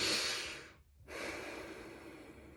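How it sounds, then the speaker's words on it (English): A single nostril breathes in and out at close range during a nasal breathing test. Air rushes through with a short pause between the two breaths. It is fairly soft and there is no talk. "I will hold on one side and breathe in and out of the one nostril."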